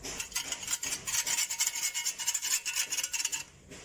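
Rust being scraped off a corroding metal object: a steady run of harsh, rasping strokes, close and fairly loud, repeating quickly for several seconds with no talking, then fading at the end.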